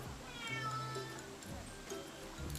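A cat meows close by in a couple of short, drawn-out, tonal cries over a faint background hum.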